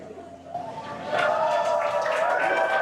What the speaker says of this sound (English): obviously some happy cheers as the crowd is growing outside of Mission Control Hawthorne